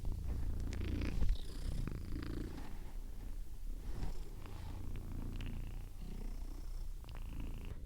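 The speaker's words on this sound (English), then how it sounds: "I want to see if I can capture him purring again." A fluffy cat purrs steadily and close up, a continuous low rumbling drone that runs the whole length with only slight swells in loudness.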